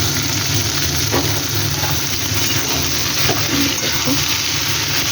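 Green peas and capsicum frying with paneer in a pan for a matar paneer curry, a steady, close hiss of sizzling oil with faint scrapes of stirring, continuous throughout and with no talking.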